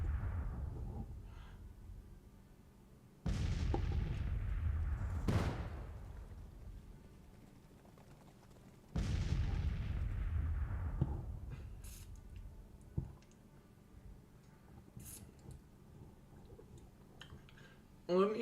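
An artillery battery firing in the video game Grand Tactician, two loud booming blasts several seconds apart, each with a long rumbling decay, followed by fainter distant reports and clicks.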